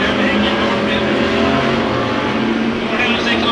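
Race cars run side by side down the back straightaway at Ocean Speedway during heat races, their loud engines roaring together in a dense, continuous drone as a commentator talks over them.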